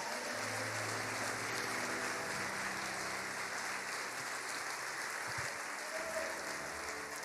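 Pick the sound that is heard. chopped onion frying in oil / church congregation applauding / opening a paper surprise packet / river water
church congregation applauding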